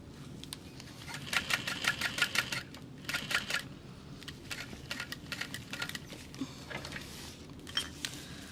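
A sewing machine stitches a crossbody bag in short rapid bursts of mechanical clatter separated by brief pauses, fairly close over a quiet background.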